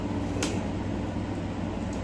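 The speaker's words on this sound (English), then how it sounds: "it's hot, and I need to turn the AC on." An air conditioner runs with a steady, unbroken low hum and broadband whoosh in a room during summer heat, with a faint tap or click now and then.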